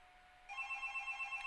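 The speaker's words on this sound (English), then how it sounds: "that is the phone" A telephone starts ringing indoors with a rapid warbling electronic trill, pulsing steadily at moderate volume over quiet room tone, with no one talking.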